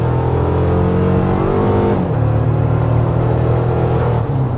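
A 2024 Toyota Tacoma Limited with a 2.4-liter turbocharged four-cylinder climbs a very steep hill, its engine droning loudly and steadily with a shift partway through that drops the pitch before it pulls again.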